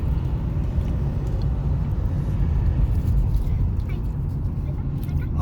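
Steady low engine and road rumble inside a car moving through traffic, continuous and fairly loud, with voices talking over it.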